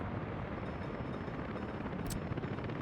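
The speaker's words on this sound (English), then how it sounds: "I'm going to get a helicopter squad to help out." Helicopter squad in the city-building game Workers & Resources: Soviet Republic, heard as a continuous dense rotor whir at steady volume with one brief high click partway through, with no speech.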